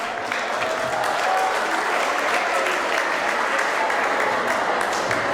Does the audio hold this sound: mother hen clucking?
no